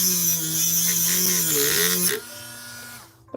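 A small, low-powered electric drill whirs steadily with a thin buzzing whine, slightly wavering in pitch, then spins down and stops near the end, close to the microphone with no talking.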